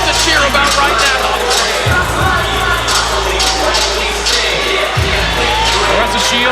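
A packed arena crowd at a women's professional boxing bout in Flint roars and cheers continuously, a dense wall of whoops and shouting with low rumbling thumps underneath, loud and sustained throughout.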